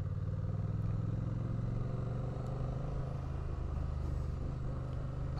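A Honda Rebel 1100 DCT motorcycle pulls hard under throttle, its dense engine rumble steady and loud from start to finish, heard close with no voices over it.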